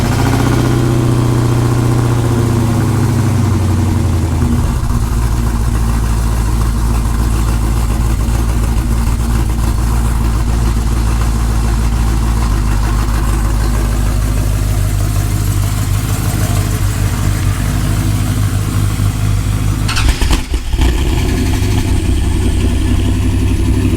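Two cammed Dodge Dakota R/T trucks rumble at idle after a cold start, a loud, steady, lumpy engine drone close by, with a brief sharp clatter near the end.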